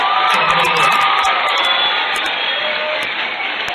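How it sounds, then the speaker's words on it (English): A live-event crowd cheers and whoops steadily in a big hall, a loud continuous wash of shouting and applause with scattered high yells throughout. "let's give Michelle McBean the loudest round of applause"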